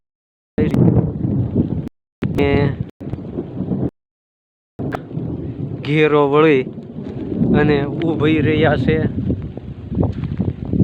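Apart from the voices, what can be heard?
thunder and rain starting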